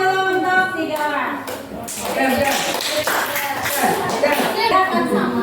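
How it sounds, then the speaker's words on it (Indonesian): Classroom clapping for three students during a maths lesson, scattered uneven hand claps from a small group mixed with children's voices talking over it. "tepuk tangan dulu untuk 3 orang"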